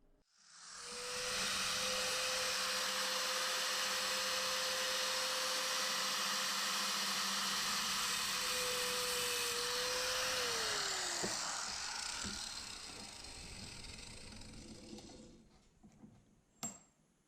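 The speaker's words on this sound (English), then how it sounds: "After you've made the mark, it's time to cut the firing pin." Rotary tool cutting an airsoft grenade firing pin clamped in a bench vise: a loud, steady high-pitched whine that holds for about ten seconds, then drops in pitch and winds down, ending with a few sharp clicks.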